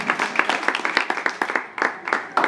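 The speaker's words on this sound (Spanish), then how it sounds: "Fuerte aplauso para todos y todas." A crowd applauds children graduating at a rural school ceremony, scattered claps forming uneven bursts that rise and fall across the moment, fairly close and without speech over them.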